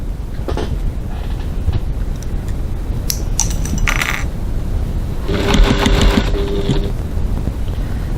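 A sewing machine bastes piping onto fabric, its rapid mechanical stitching rising loudly for a couple of seconds over a constant heavy rumble, with scattered clicks and brief handling noises around it.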